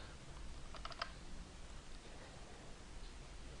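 A computer mouse double-clicks, a quick cluster of faint clicks over a steady hiss, then nothing more but the noise.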